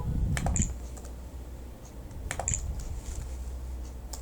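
Typing on a computer keyboard, with two short clusters of quiet key clicks separated by a pause over a steady low hum.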